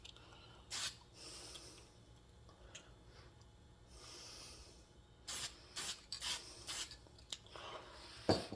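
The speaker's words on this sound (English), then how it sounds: "I'm going to spray these letters in the same way." Several short hissing bursts from a spray can painting bead-blasted metal letters, starting and stopping irregularly, close by with quiet pauses between.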